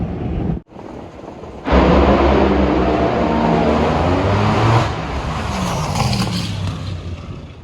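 A loud, roaring drag racing car engine drones steadily from about half a mile away at an NHRA event, building suddenly and holding a sustained rumble as it tears down the strip.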